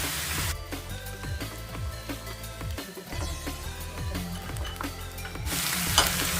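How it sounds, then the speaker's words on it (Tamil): Onions sizzle steadily in a hot pan for dry fish thokku, with occasional stirring scrapes, close and continuous throughout. "இப்போ வெங்காயம் வந்து நமக்கு ஓரளவுக்கு நல்லா வதங்கிடுச்சு"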